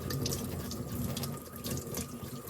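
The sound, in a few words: warm tap water running while washing polished jewelry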